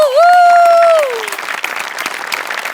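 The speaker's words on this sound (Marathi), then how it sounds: "त्यामुळे डांगे, दशरथ आणि आपले सगळे सेटिंगवाले यांच्यासाठी एकदा जोरदार टाळ्या" A studio audience at a Marathi comedy show breaks into loud, dense applause after a sustained musical tone fades, the clapping continuing close and steady to the end.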